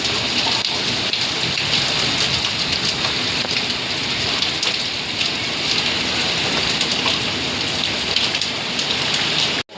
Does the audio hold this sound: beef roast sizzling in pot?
no